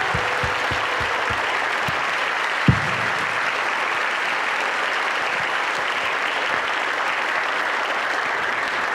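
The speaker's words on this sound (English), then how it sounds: "if we can have a round of applause for all of our recipients" Audience applause for alumni award recipients at a distinguished alumni ceremony: a steady wash of many hands clapping that holds evenly throughout, with a few sharper individual claps near the start.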